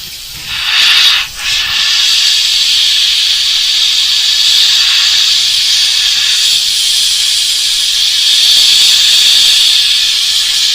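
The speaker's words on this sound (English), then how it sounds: "I got to get right down in there with the airbrush" An airbrush spraying paint onto the gill plate details of a painted fishing lure or fish, a loud, close, steady hiss of air that dips briefly early on, then holds almost unbroken.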